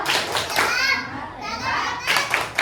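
Children in a classroom clap in a class chant, their voices chanting and calling loudly together close by, with claps mixed into the lively group noise.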